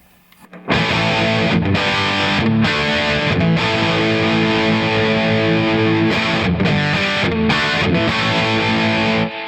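An electric guitar played through an Amptweaker Big Rock Pro distortion pedal with its mid boost engaged, loud saturated chords ringing in sustained bursts with short pauses between, alone without any voice.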